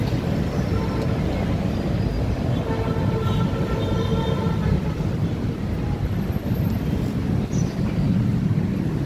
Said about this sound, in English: Got another sight of the LRT train.